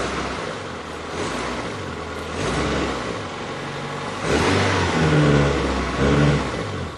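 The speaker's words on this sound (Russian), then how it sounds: "Теперь нужно слегка погазовать и проверить подъемистость педали газа." A car engine idles after a throttle body cleaning and is revved in several short throttle blips, each rise and fall in pitch clear and close, with no talking.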